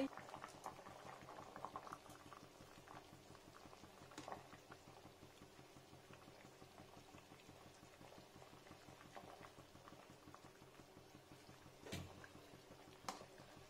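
Fish egg curry (jhol) with fried roe fritters and potatoes bubbles steadily in a pan over full heat, a continuous close simmering patter with occasional sharper pops and no talk.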